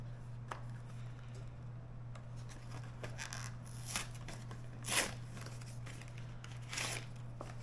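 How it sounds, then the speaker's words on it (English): A pair of scissors cuts open a vacuum-sealed pepperoni package in a home kitchen, giving a few faint crinkling snips and plastic crackles scattered across several seconds. "Of course, for everything, you need a pair of scissors."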